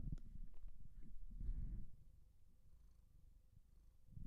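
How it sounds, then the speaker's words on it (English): A pet cat purring close by late at night, a soft low rumbling that rises and falls steadily, with a brief louder burst near the middle. "Can you hear her purring?"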